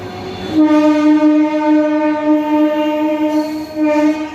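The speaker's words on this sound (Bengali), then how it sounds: "এই মুহূর্তে একটা ট্রেন যাচ্ছে এখান দিয়ে।" A train rumbles past close by at Bidhannagar, Kolkata, its long, steady horn blaring loudly for several seconds.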